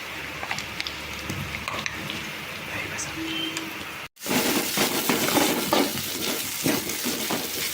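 Green chillies and onions sautéing in a pan, a steady sizzle that jumps louder after a short break, with stirring and scraping of utensil against pan throughout.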